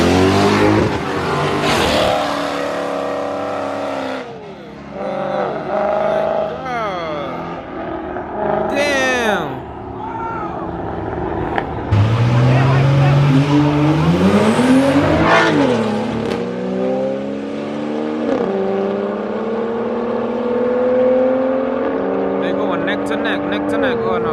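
A Ford Mustang and a Dodge Scat Pack race side by side in Mexico, engines revving and rising in pitch through gear changes, loud and near, while spectators shout and talk over the roar.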